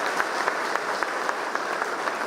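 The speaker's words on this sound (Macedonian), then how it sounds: "еден аплауз молам за нив" Audience applause at a company's 20th anniversary celebration, a dense steady clapping from a crowd that holds at an even level for the whole stretch, with no voices over it.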